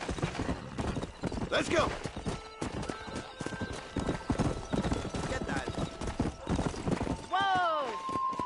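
Horse hooves clip-clop in a steady gallop during a ride in the video game Red Dead Redemption, with a horse whinnying near the end, under talk from characters.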